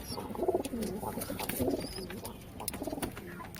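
Soft, low pigeon coos repeat in a few short bursts, fairly close, with a faint background hum between calls.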